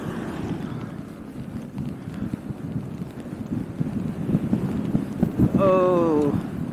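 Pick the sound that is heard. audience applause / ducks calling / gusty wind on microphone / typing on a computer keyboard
gusty wind on microphone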